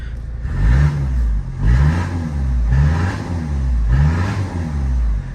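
Tuned Citroën C-Elysée 1.6 HDi diesel with decat exhaust, about 140 hp, revved four times in a steady rhythm, each rise a loud throaty burst that falls back to a rumbling idle, heard close through an open window.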